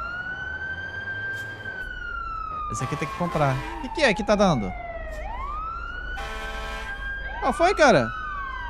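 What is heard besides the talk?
fire truck siren in a video game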